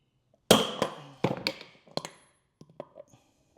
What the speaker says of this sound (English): I'm just going to tap it lightly on the outside just to get it to go straight.